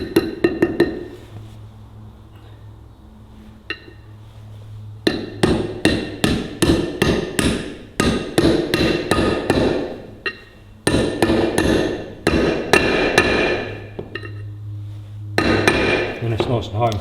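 A part is hammered home on a Ferguson TEA20 tractor: two long bursts of rapid, loud metallic hammer blows, close by, with short pauses between them and a low hum underneath.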